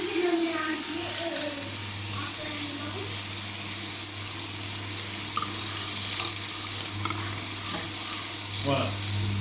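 Tomato purée being stirred into a hot pan while making a burger, with a steady sizzle of frying running under the stirring throughout.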